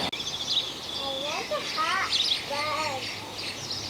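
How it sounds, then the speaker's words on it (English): Several birds chirp and tweet outdoors, their calls rising and falling over a soft hiss, with a faint voice briefly in the background. "All the birds."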